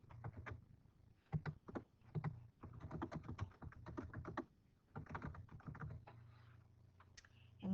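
Quick bursts of typing on a computer keyboard, close and fairly quiet, with clustered keystrokes separated by short pauses over a low steady hum.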